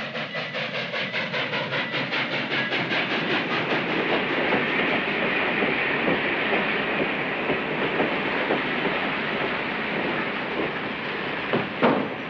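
A train rumbles along the rails with a steady clickety-clack rhythm and a broad hiss, heard from inside a carriage, continuous and fairly loud.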